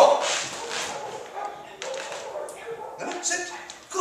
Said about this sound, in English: Beautiful puppy dog.